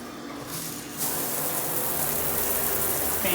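Cabin shower water starts up partway through and then sprays steadily in a loud, broad hiss with no talk.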